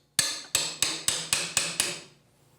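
Seven evenly spaced sharp metallic taps as a hammer drives a pry bar in behind wall trim, close and loud, each strike ringing briefly before the next, with no talking.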